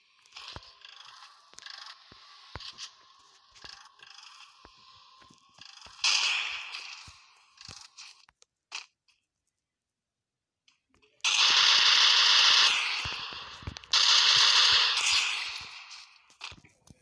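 Gunfire rings out in the Free Fire battle-royale video game: bursts of sharp shots and clattering effects come in clusters, with a quiet gap and then loud, dense volleys near the end.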